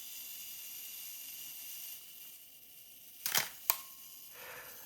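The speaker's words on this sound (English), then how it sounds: "Self-timer will advance. This is mechanical, by the way." Mechanical self-timer and shutter release on a vintage Minolta XD film camera: a soft whirring run, then two sharp close clicks in quick succession followed by a brief hiss, all quiet with no talking.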